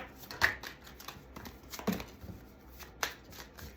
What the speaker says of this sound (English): so shuffling is kind of hard right